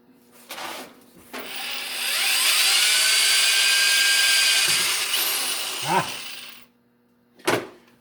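Power drill with a quick change chuck spins up after a few clicks, whines steadily at high speed for several seconds, then stops, followed by a sharp handling knock.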